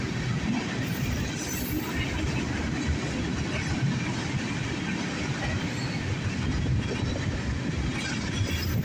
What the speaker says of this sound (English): take a look at these massive tankers once again